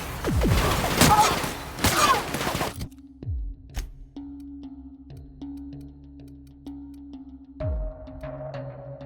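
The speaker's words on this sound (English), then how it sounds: "Returning fire!" Bursts of gunfire in The Outer Worlds, a dense, loud volley in the first few seconds, then quieter scattered impacts and thuds.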